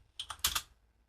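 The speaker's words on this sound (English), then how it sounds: "we're going to type sudo nano" A short burst of computer keyboard typing while a Linux terminal command is entered: about five quick, crisp key clicks close by, with the last few louder, then quiet.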